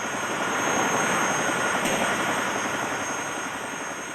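A Vietnamese military helicopter flying off after dropping a load of rice at an evacuation point near an orphanage in Kontum, 1972, its broad steady engine and rotor roar holding loud and even throughout.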